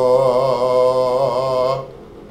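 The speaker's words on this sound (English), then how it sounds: "when I sing in my chest register, at the bottom, I sound like this." A man sustains a low, steady sung note in his chest register, close and fairly loud with a slight waver, ending abruptly after about two seconds.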